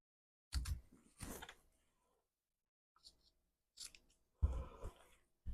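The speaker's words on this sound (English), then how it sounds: "You go around and trim all the corners on the outer fabric and the inner fabric." Scissors snip at the corners of outer and inner fabric for a zipper wristlet purse, four or five quick close cuts in short bursts separated by quiet pauses.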